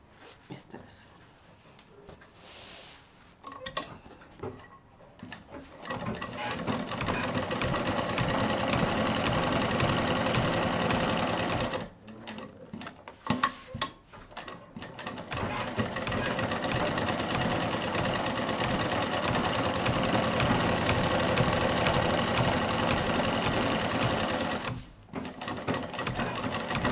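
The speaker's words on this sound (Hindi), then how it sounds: "जो बीच में लाइन डाली थी अब उस पर सिलाई करने जा रही हूँ।" A sewing machine stitches a fabric fridge handle cover, running in long steady loud whirring bursts with a few brief pauses, and faint speech occasionally underneath.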